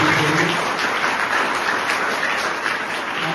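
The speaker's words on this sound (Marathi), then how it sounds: "त्यासाठी जोरदार टाळ्या एकदा" A crowd at a Lions club birthday event gives a round of hearty applause. The clapping is dense and continuous, fairly close, and tapers slightly toward the end.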